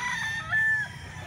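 A single short crow from a straight-combed Golden Boy sweater gamecock rooster, fairly close and clear over faint background noise.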